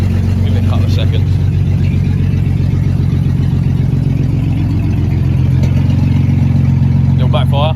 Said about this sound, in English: Little backfire.